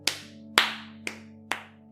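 Four sharp, separate claps from an animated story, evenly spaced and crisp, each ringing briefly over a low steady background hum.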